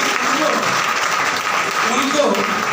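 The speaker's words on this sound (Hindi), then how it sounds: "अगर जितने जॉब वाले हैं एक बार अपने लिए खुद की ताली बजावे खुद के लिए" An indoor audience bursts into dense, steady applause, many hands clapping together at close range with no pauses through the clip.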